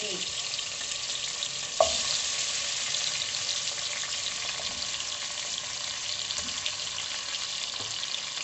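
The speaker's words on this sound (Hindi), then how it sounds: "मीट डालने के बाद इसको हम भूनेंगे।" Meat sizzling and frying in a pan with spices and ginger-garlic paste, a steady crackling hiss with an occasional clink of stirring, moderately quiet and continuous.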